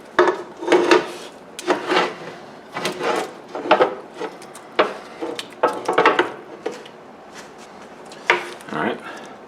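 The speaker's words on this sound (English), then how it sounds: "So I'm just going to drop them in." Meatballs for Italian spaghetti and meatballs drop one by one into a pan of sauce, each landing as a soft, wet thud with scraping in between, about a dozen close, irregular hits.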